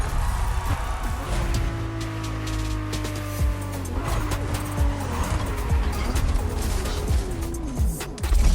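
Ferrari LaFerrari in The Crew Motorfest racing game, a high-revving engine with rising and falling gear changes and sustained tire squeal and skidding, loud and continuous.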